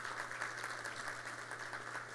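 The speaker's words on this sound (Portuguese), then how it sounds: "e que eu peço uma salva de palmas." Faint, steady applause from an audience at the opening of a Brazilian telecommunications industry conference panel, a distant, even patter of many hands throughout.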